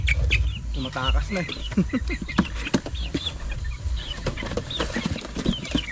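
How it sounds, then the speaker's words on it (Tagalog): Seven newly hatched chicks peep and cheep while being set into a cardboard box, bright chirps scattered throughout alongside rustling handling noises, with a person talking over them. "Ayan mga sisiw natin. So lalagay lang natin sila dito sa karton."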